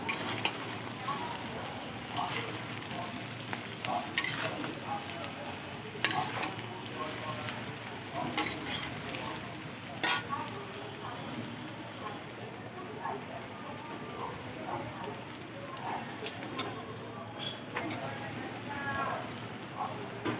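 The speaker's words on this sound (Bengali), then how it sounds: "চাউমিন দিয়ে নাড়াতে থাকবে" Chowmein noodles frying and being stirred in a pan make a steady, hissing sizzle with recurring scraping and clattering strokes, under occasional quiet talk.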